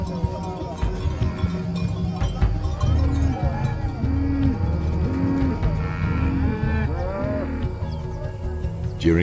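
Cattle at a Maasai camp lowing in a series of deep, repeated moos, several calls in rhythm close by, with a cowbell clanking and faint bird calls in the background.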